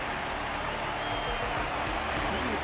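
Crowd applause in the video game Honkai: Star Rail, a steady, dense wash of clapping that holds at an even level throughout.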